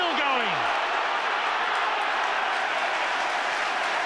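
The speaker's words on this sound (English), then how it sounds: "Draws applause from the crowd" Rugby league crowd at a St Helens v Leeds match applauding, a steady broad wash of clapping and cheering that holds evenly throughout, with a brief whistle-like sweep at the start.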